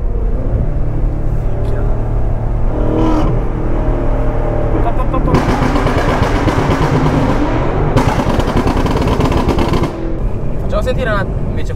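A BMW M5 Competition's engine rumbling and revving through its exhaust, close and loud, with sharp bursts of louder roaring and crackle as the revs climb, and people talking over it.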